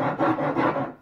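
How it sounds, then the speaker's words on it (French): Wood being sawn by hand on a living-room table for a homemade bike stand, a short run of rough rasping strokes, close and fairly quiet, with no talking. "On va scier ça."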